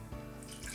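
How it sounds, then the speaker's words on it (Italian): Water is poured into a small saucepan, a brief, close trickle of liquid with a couple of soft splashes and no voices. "In una casseruola piccola unisco l'acqua"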